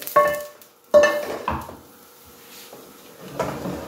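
A metal chicken pan is opened and handled in a home kitchen, giving several clanks and scrapes of metal on metal, with a short pause before softer rattling and one final knock.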